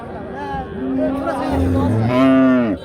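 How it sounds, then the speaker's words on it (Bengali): A cow moos loudly and close at a traditional village cattle market in Bangladesh, one long drawn-out call rising over background crowd murmur and chatter. "আমরা অবস্থান করতেছি ঐতিহ্যবাহী চন্ডিমুড়া হাটে"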